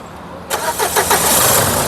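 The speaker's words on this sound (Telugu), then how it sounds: "సింగిల్ సెల్ఫ్లో కార్ స్టార్ట్ అవుతుందండి" A 2014 Renault Duster RXZ 4x4 engine cranks briefly and catches on the first try, settling into a steady idle rumble close by.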